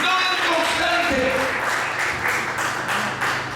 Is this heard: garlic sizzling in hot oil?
no